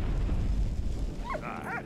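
A dog in Valiant Hearts gives a couple of short, high yips or whimpers near the end, over a loud, rumbling game background.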